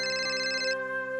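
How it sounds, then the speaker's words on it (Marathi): A mobile phone rings with a bright, steady electronic ringtone that sounds continuously for about three quarters of a second and then cuts off, leaving quiet indoor room tone, in a Marathi TV serial scene. "माझा फोन वाजतोय"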